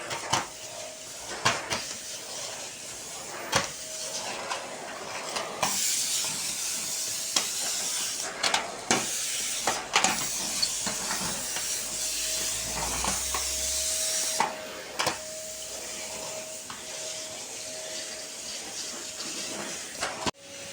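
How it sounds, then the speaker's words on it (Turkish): A powerful household vacuum cleaner runs continuously while sweeping a living room floor, a steady hiss and whine with a sustained tone, broken by frequent clicks and knocks as it bumps furniture. "Süpürgem de çok kuvvetli çıkıyor arkadaşlar."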